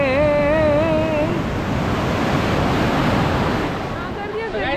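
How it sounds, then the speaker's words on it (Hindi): Big sea waves crash on a beach in Goa in a loud, steady roar of surf close by, with wind buffeting the microphone and a voice speaking briefly at the start. "ये बहुत तेज पानी है, ये कितनी बड़ी वेव आ रही है।"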